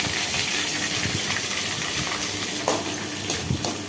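Onions fry in a pan with a steady, loud sizzling hiss close up, broken by a few brief crackles and a light scrape near the end, with no speech.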